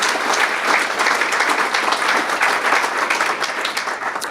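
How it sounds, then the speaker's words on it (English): Dense, sustained applause fills the room from the audience at a 2019 State of the City civic address, many hands clapping together at a steady loud level for the full length with no speech over it. "Give a nice round of applause to that."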